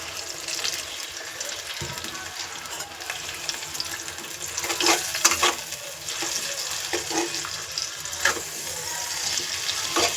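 Potatoes with ginger-cumin paste and a splash of water sauté in a pan, giving a steady close-up sizzle with scraping stirs and a few louder clatters, and no talking.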